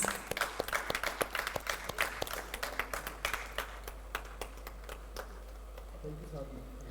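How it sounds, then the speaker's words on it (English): An audience at an annual conference claps in a round of applause, steady and moderately loud, fading after about five seconds as a low hum continues beneath. "A huge round of applause for him once again,"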